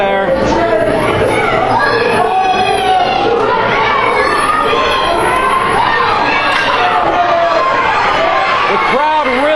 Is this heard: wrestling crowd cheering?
yes